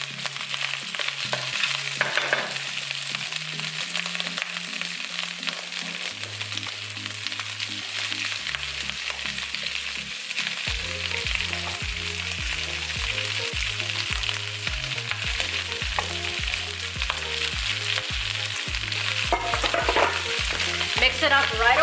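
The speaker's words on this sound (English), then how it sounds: "And it's gonna sizzle and pop." Rice with bok choy sizzles and crackles loudly in a hot pan while being stir-fried, a continuous close hiss with scraping stirs and steady tonal hum underneath.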